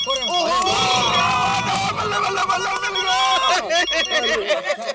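A telephone rings with a repeated electronic bell tone under background music and voices in a comedy scene.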